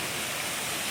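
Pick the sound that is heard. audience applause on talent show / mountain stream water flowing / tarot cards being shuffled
mountain stream water flowing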